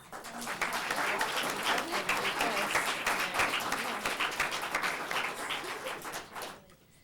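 An audience applauds performers at a staged reading, a dense and even burst of many hands clapping that holds for several seconds before tapering off quickly at the end.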